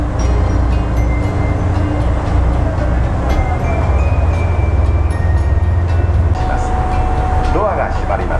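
A JR West train pulls away from platform 1 at a Japanese station with a loud, steady low rumble that continues throughout, faint voices underneath, and a brief rising tone near the end.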